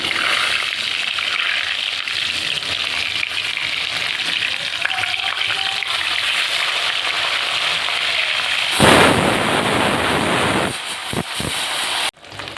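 Pieces of silver carp fry in oil in a wok with a loud, continuous sizzle, broken by a sudden sharp spatter burst and a few clanks of the utensil near the end.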